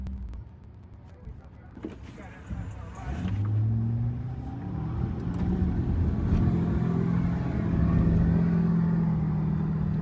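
Inside a car on the road, a steady low rumble of road and engine noise builds as a large truck drives alongside, with someone talking at the start.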